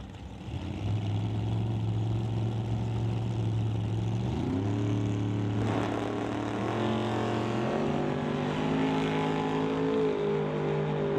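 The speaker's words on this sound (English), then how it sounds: "Munson in the Malibu to race Stephen Robert in the Bucket Chevy Roadster for IPS and Pitbull Mechanic Repairs." Two drag race cars, a Chevrolet Malibu and a Bucket Chevy Roadster, idle and rev at an NHRA Summit ET drag strip, with steady engine drones that step upward in pitch as the throttle rises, loud and continuous.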